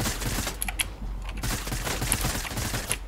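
Gunshots in Fortnite crack out in scattered bursts, a few sharp reports punctuating a steady background of game noise, fairly close and loud with no talking.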